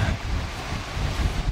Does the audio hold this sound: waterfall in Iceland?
yes